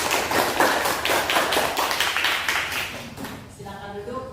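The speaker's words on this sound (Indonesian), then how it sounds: "mari kita memberikan aplaus buat kelompok 1" A class applauds a presenting student group in a school lesson: steady, dense clapping from many hands fills the room, then thins toward the end as a few voices come through.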